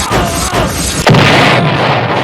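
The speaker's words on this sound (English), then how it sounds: "Flames and fire and explosions." A single deep boom from a traffic crash explosion bursts out about halfway through, rising above a dense, roaring background of rumbling noise.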